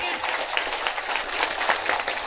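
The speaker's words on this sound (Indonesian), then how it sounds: "tepuk tangan dulu dong buat panitianya" An Indonesian audience claps for the event committee at a comedic religious talk by a female preacher, a steady, fairly loud patter of applause running throughout, with voices mixed in.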